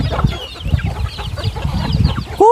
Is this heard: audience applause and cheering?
no